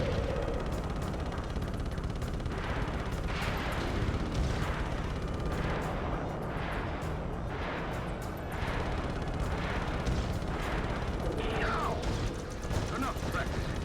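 Guns fire in Ratchet & Clank in dense, repeated bursts with booming impacts and clanking mechanical noise, loud and continuous, while a voice talks over the action.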